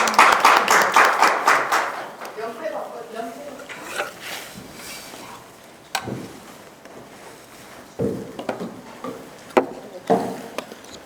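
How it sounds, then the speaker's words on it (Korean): An audience at a political party meeting in Gwangju breaks into a burst of clapping that fades into scattered claps, with voices and room noise around it and a few louder isolated claps later. "여러분 큰 박수 부탁드립니다."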